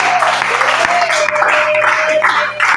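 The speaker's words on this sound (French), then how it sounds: "est-ce qu'on peut acclamer pour lui?" An audience applauds and cheers in a dense, steady wash of clapping that lasts the whole stretch, with a held vocal tone riding over the crowd noise.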